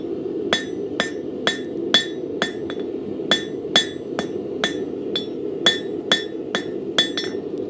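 A hammer strikes hot iron on an anvil, drawing out a long taper for a kitchen skewer: about fifteen bright ringing blows at a steady rhythm with short pauses, close and loud over a low forge roar.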